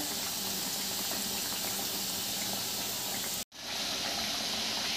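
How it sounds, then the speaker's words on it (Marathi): Balushahi dough frying in hot oil, a steady broadband bubbling hiss that fills the whole clip, briefly cut off near the end and then resuming. "हे आपले एक साईडनी व्यवस्थित तळले गेले."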